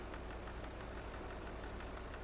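A tractor engine idles in Farming Simulator 22, a steady low droning rumble with a faint rhythmic pulse, continuous and fairly quiet, with no voices over it.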